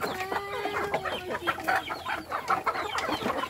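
Farm chickens clucking in short, busy bursts, several birds calling over one another close by, with no talk over them.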